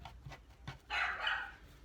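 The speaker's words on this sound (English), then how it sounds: "I'm so sorry about my dog barking." Dog barking from inside its cage in a craft room, a couple of short muffled barks followed by a louder, longer bark, somewhat distant and quiet.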